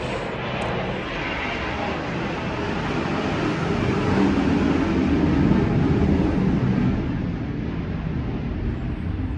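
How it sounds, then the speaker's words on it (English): A fighter jet flying overhead in Washington, D.C., its broad roaring rumble swelling steadily and peaking midway before easing off slightly, loud and continuous with no talk. "it's a fighter jet"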